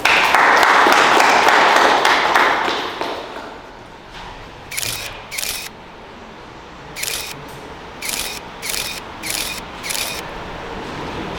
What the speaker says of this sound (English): One more round of applause for Captain Victor Frierson